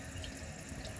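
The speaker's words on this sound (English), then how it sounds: "if you hold the handle longer, you'll get more of that water to go down." Water drains from an American Standard Champion toilet with a leaking flush valve seal while the handle is held down, a faint, steady trickling rush heard alone.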